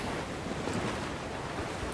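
Misty, windy sea ambience from the Assassin's Creed IV pirate game: a steady, full wash of wind and surf noise that holds evenly throughout, with no voices over it.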